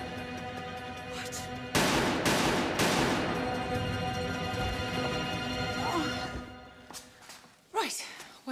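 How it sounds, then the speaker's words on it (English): Gunshots go off in a tense scene, two loud booming bursts that ring out over a music bed, followed by quieter clatter and raised voices. "I will shoot you, Francis."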